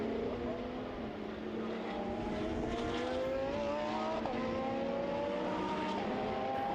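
GT4 race cars, a Porsche Cayman GT4 among them, battle in a D4/D5 circuit race at Most, engines droning steadily with rising and falling pitches as several cars pass close together, continuous and loud throughout.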